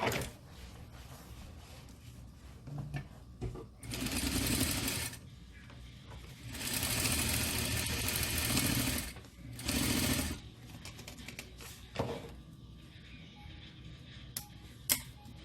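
Sewing machine stitching fabric for a baby dress, running in several loud bursts of steady rapid whirring separated by quieter pauses with small handling clicks.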